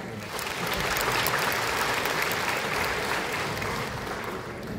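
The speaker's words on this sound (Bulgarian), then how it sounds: "Отново аплодисменти за тях." An audience at a primary school's 75th-anniversary jubilee concert gives sustained, even applause, with a dense clapping texture that holds steady from start to finish.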